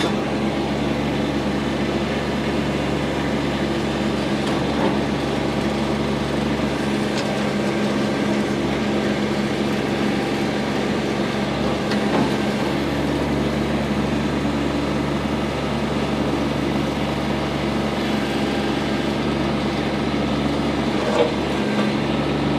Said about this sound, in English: Backhoe is very nice, very smooth. Picks itself up under its own power without any issue.